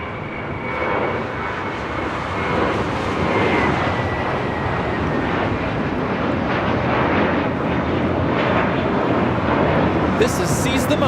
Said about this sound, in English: taking off to Boston, JetBlue Airways flight 2188 on an A321